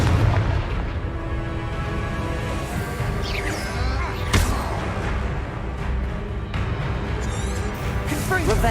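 Confringo fire spell blasts in Hogwarts Legacy combat, a dense run of booming, crackling bursts with one sharp impact standing out midway, layered over steady game music and battle noise.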